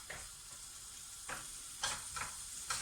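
Quiet, steady sizzle of food frying in a pan for cottage pie, with a few soft scraping or stirring sounds at irregular moments.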